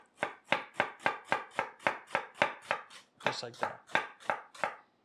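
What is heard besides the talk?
knife julienning cabbage on a cutting board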